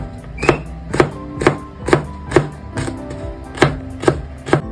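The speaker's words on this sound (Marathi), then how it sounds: "आतां हांव कॅरट कातता." A knife slices a carrot on a cutting board in a Goan home kitchen, about ten crisp, evenly spaced chops in a steady rhythm, close and clear with no talking.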